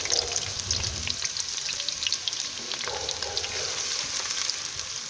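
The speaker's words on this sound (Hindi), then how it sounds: "ऑयल हमारा गर्म हो गया। अब हम इसमें डालते हैं प्याज, 2 अदद प्याज" Two onions sizzle and crackle steadily in a cup of hot oil for an aloo chicken curry, with a continuous close frying hiss and scattered small pops throughout.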